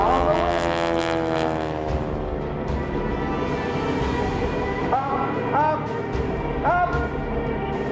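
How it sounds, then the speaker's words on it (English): A propeller aerobatic airplane drones steadily as it builds airspeed, its engine note shifting and climbing over the full length, continuous and fairly loud with faint tonal sweeps near the end. "James pushes over and starts to build up the airspeed again for some more, even more aggressive aerobatics with Carol Pilon all the way."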